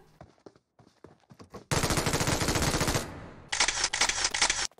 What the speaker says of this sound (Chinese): 周围不时地传来零星的枪声